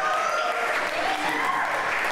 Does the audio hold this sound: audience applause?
yes